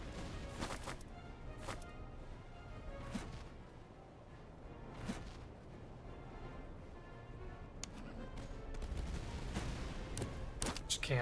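Artillery firing grapeshot and canister in Master of Command, a Commonwealth Army battle: repeated distant cannon booms and crackling volleys spread across a continuous battlefield din, faint and far-off.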